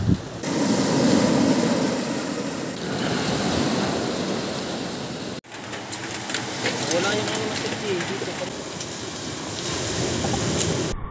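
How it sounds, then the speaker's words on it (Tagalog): Loud ocean surf crashes and roars with wind buffeting the microphone, while people shout and talk excitedly over the water noise. "Ang lalaki ng alon!"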